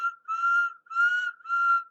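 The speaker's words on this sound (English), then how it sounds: "Whistled the engines as they reached the place." A toy or model steam engine whistle sounds three times, each blast a steady, clear tone with short gaps between, alone and fairly close.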